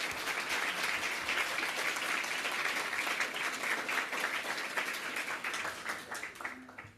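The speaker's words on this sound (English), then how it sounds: "round of applause, please" A panel discussion audience claps in steady applause for several seconds, dense and even before tapering off at the end, with a faint voice starting as it fades.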